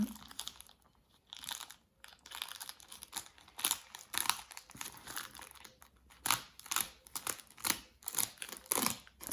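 Crinkling and tearing of plastic packaging as a quilling craft kit is opened, an irregular run of close, dry crackles and rustles that grows busier toward the end.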